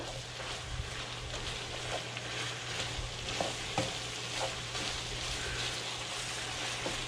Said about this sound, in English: And I'm just going to stir this dish up now until it's all evenly mixed.